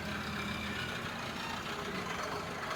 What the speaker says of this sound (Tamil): வண்டி போகுது பார்த்தீங்களா.